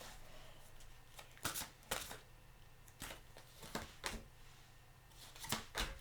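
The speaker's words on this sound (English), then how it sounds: "So I'm using my Archangel Michael cards." Archangel Michael oracle cards being shuffled, giving a series of quick papery riffles and soft slaps in irregular bursts, close by over a faint steady background hum.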